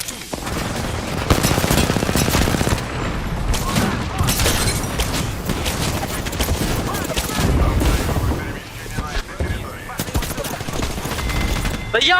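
Rapid gunfire rattles through a shield in a shooter video game, dense overlapping bursts and booms filling the whole stretch, loud and busy, with voices talking over the action.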